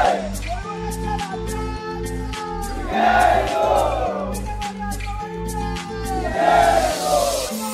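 A celebrating crowd cheers and shouts over a steady, pounding beat from a drum troupe, with loud rising bursts of voices rolling in every few seconds.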